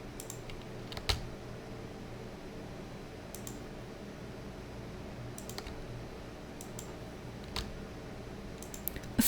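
Quiet, sparse computer keyboard key presses while working in Photoshop: scattered single clicks and short clusters of taps over a faint steady background hum, with no talking.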